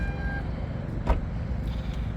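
Power tailgate of a 2024 BMW X5 xDrive50e in Skyscraper Grey Metallic closing after a foot kick under the rear bumper, a low motor hum with a single short thud of the latch catching partway through.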